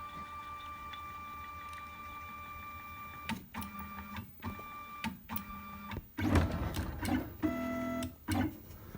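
A CNC router homes its axes with stepper motors whining at steady pitches, jumping between tones with short pauses and jolts, the motor sounds growing louder and busier toward the end.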